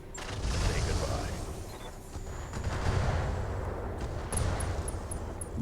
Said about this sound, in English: That's another explosion.